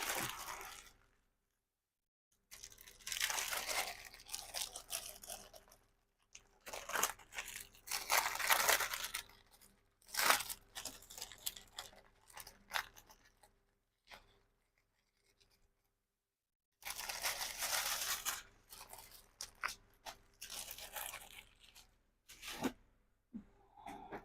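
Tissue paper is crumpled and torn close by in a crafting setting, coming in bursts of crackling and rustling separated by short silences.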